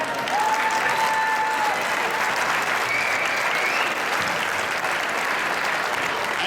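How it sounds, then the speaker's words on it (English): Sustained applause from a gymnasium crowd honoring Hall of Fame athletes on a court at an athletic banquet, a steady dense wash of clapping lasting throughout with a few whistles on top. "Let's give a big round of applause to these athletes and representatives out on the court today."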